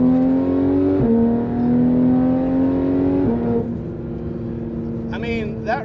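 A Porsche 911 GT3 RS of the 991.1 generation revs hard through the gears, its high engine note climbing in two steep pulls with a gear change between them, loud and close, with a short burst of other noise near the end.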